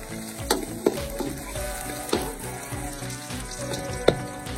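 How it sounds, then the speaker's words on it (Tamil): Chopped ginger and garlic roast in a pan for a banana fry, a steady crackling sizzle close by with a few sharper spatula knocks scattered through it and no one speaking. "முதல்ல நம்ம வெட்டி வச்சிருக்கிற இஞ்சி பூண்டு 2 சேர்த்துக்கலாம். சேர்த்து ரோஸ்ட் பண்ணுவோம்."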